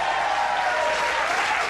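Late-night television studio audience applauding, dense, loud and continuous clapping from a large crowd that fills the whole short span, with no talking over it.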